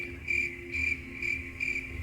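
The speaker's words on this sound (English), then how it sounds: "Just the sound of some crickets being eaten by spiders, just like Therok is about to be." Crickets chirp in four regular bursts about half a second apart, steady and fairly close over a low background hum, used as a sound effect in a Pathfinder tabletop role-playing session.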